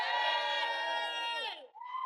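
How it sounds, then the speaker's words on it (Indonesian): A crowd at an Indonesian entertainment show cheers loudly with a dense chorus of raised, bright voices for about a second and a half, then briefly dips before the cheering picks up again. "Tepuk tangan buat Tasya"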